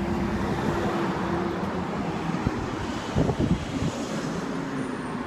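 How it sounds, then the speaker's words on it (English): A garbage truck passing on a street outside a shop: a low, continuous engine rumble buried in heavy wind noise, with a few clanking bursts around the middle. "Here comes a garbage truck."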